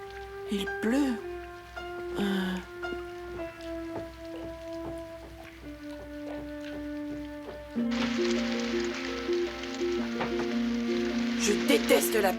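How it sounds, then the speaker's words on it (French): Steady rain hiss starts partway through and continues, under sustained musical tones and brief voices earlier on. "Je déteste la pluie."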